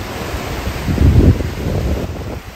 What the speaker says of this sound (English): You just hear the waves crashing in and out of the water.